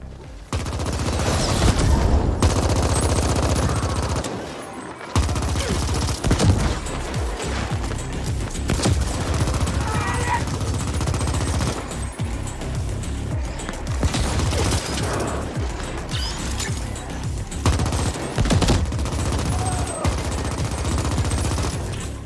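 Rapid gunfire and explosions from the sci-fi shooter game The Ascent: dense bursts of automatic weapon fire with booming blasts and mechanical clatter, loud and continuous, with brief drop-outs between volleys.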